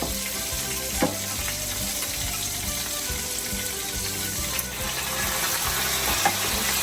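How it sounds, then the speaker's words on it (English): Meatballs sizzling with sauce in a pan, a steady, close frying hiss with a few soft stirring clicks and no talk. "I'm going to take these meatballs, I'm going to add some sauce to it"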